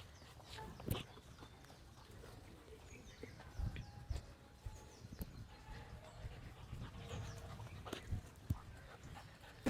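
Puppies play and pant nearby in quiet, scattered bursts of soft panting, scuffling and small yips, with a few sharper knocks in between.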